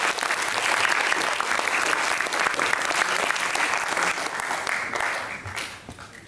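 A school exhibition audience applauds steadily, a dense wash of many hands clapping at full strength before tapering off toward the end.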